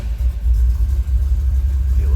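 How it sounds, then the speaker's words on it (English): A 1982 Chevrolet Camaro Z28 Pace Car sits idling after being started, its exhaust putting out a loud, steady low rumble that wavers slightly in level. "able to hear that little rumble out of that exhaust"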